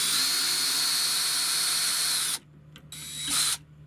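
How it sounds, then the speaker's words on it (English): A Craftsman V20 cordless hammer drill bores a pilot hole with a 5/32 bit, running loud and steady for a couple of seconds, then stopping, followed by a short second burst. "I'm going to use the 5/32 bit to make a hole before I put in the anchor."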